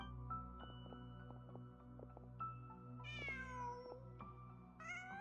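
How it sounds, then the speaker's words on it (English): A cat in Genshin Impact gives a few clear meows over a soft, steady game music bed, with no one talking. "Just a cat."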